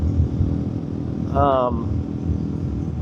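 A 200cc motorcycle engine labours hard at about 80 mph on the highway, giving a steady, buzzy drone under wind rush, with a brief rising tonal whine midway.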